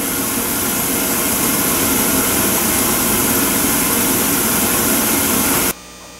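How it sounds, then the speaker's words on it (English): A waste oil furnace burner runs with a loud, steady roar and broadband hiss, constant throughout, then cuts to a quieter hum near the end. "right now the burner is running"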